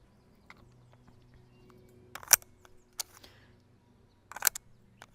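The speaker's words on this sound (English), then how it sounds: "there's no issues loading the mag." A magazine is loaded for an HK P30 9mm pistol: a few crisp metallic clicks and snaps, close and quiet, with near silence between them.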